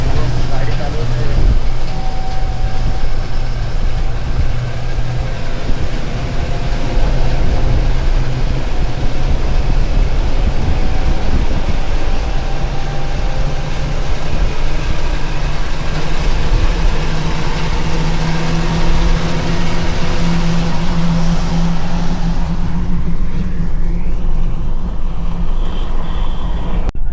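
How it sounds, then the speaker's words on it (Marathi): A Mahindra Blazo X 28 tipper truck is driven on the road, its engine and road noise forming a loud, steady rumble that fills the whole stretch and fades slightly near the end. "गाडी चालवत आहे."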